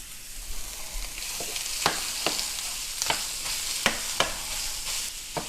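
Crumbled sausage browns in an old frying pan, a steady broadband sizzle with sharp clicks as a metal spatula scrapes and flakes the meat.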